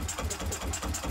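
Mini model true diesel engine running with the throttle being opened, a rapid pulsing chug that stays close and steady throughout.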